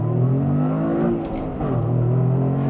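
Manual 2025 Toyota GR Corolla accelerating hard, its engine revving up loudly from inside the car, dipping briefly at a gear change and then climbing again.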